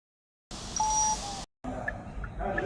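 A single clear electronic beep from a Lonsdor K518 Pro key programmer signalling programming complete, a steady high tone lasting about a second, with a fainter second tone and a brief pause before background sounds resume.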